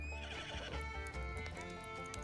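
Video game horse neighs in a loud, close whinny with hoof clip-clop, over a continuous musical backdrop.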